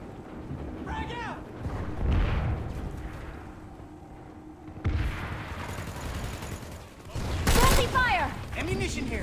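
Game audio from PlanetSide 2 with a grenade blast and gunfire: booming low thumps and bursts of shots spread through a noisy battle scene, with game voice lines and other chatter mixed in.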